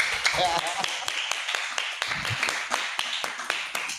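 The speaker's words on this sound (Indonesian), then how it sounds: "tepuk tangan dulu, tepuk tangan dulu." An audience at a religious lecture claps in a rhythmic, fairly even beat, moderately loud and close, with sharp separate hand strikes rather than a dense roar.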